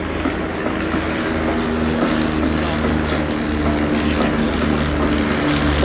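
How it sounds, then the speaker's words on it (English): A Stampe biplane flies past at the Eastbourne air display, its propeller engine giving a steady, fairly loud droning hum throughout, with crowd or commentary noise mixed underneath. "Beautiful aircraft these."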